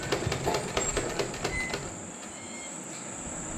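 Sewing machine stitching a suit sleeve, a quick run of rhythmic mechanical needle clatter for about two seconds, then a steady hum as the stitching slows and stops.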